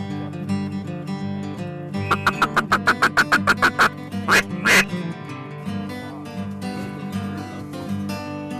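Ducks quack in a quick run of about a dozen loud, evenly spaced calls, then two longer, harsher quacks, over steady outdoor background hum during a duck hunt with decoys set out.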